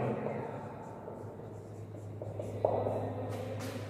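Chalk or marker scratches across a classroom board in short strokes during a history lesson, faint and close against a steady low hum, with a sharper tap near the middle.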